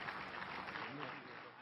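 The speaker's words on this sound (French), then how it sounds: "le ministre français est applaudi." Ambassadors from countries outside the Security Council applaud at the UN Security Council after the French foreign minister's speech opposing war in Iraq. The sustained, dense clapping fills the whole moment and fades slightly near the end, with a voice likely talking over it.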